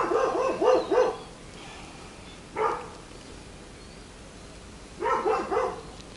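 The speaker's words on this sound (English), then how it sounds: "It's my neighbor's dogs and my dogs barking at each other." Neighboring dogs trade barks at a distance: a quick double bark, a single bark a moment later, then another rapid double burst, each separated by quiet outdoor stillness.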